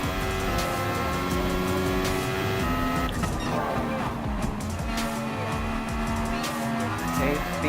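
F1 race car engine in Gran Turismo Sport on the Circuit de Barcelona-Catalunya, a loud, steady high-revving whine that climbs and drops through gear changes for several seconds, with no talking.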